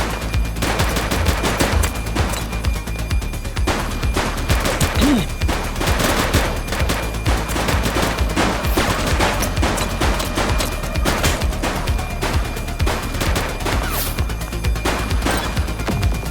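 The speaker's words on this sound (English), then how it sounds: "Shots fired!" A rapid shootout in The Precinct, a police video game: dense, continuous bursts of gunfire crackle and thump without pause, loud and close throughout.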